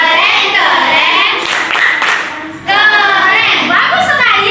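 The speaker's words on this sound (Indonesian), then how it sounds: "Kita kasih tepuk keren." A church group doing a rhythmic 'tepuk keren' clap chant, loud close hand claps mixed with children and adults chanting along, with the clapping and voices overlapping throughout.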